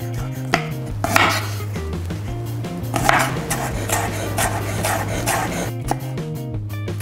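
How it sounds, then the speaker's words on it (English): Garlic cloves are smashed and chopped on a cutting board for black bean sauce noodles, with sharp repeated knife knocks and thuds close by and one harder smash in the middle. "First thing we're going to do is to cut the garlic. So just smash it down."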